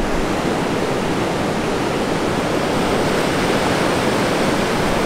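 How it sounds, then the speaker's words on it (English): Ocean waves wash onto a beach in El Salvador as a steady, close roar of surf that holds without any break or voices. "2 minutes down the hillside and we're on the beach."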